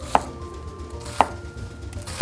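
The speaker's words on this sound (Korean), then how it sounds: "먼저 양파 먼저 썰게요." A knife cuts through an onion in thick slices for stir-fried yaki udon: three sharp, close chops fall about a second apart on a cutting board over a faint steady background, with no talking.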